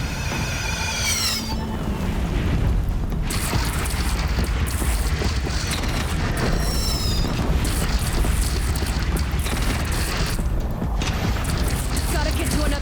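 Cannons boom during a defensive battle for Meridian in Horizon Zero Dawn, with heavy rumbling blasts and a continuous loud low roar of combat under shouted voices.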